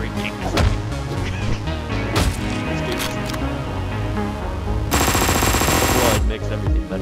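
Rapid gunfire bursts from shooters in the top-down video game Hotline Miami 2, loud and dense over driving game music, with a sustained roaring barrage near the end and sharp individual shots earlier.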